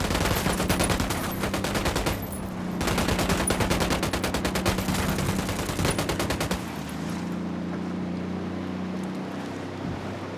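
Rapid automatic gunfire in Ghost Recon Wildlands video game, loud, dense machine-gun bursts rattling for several seconds with a brief pause between them, then giving way to a steady engine-like rumble.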